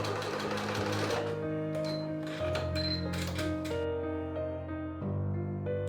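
Sewing machine running steadily as it stitches slowly across several fabric layers of a double loop headband, a close continuous whirring hum with a slight pitch change midway and a brief pause near the end.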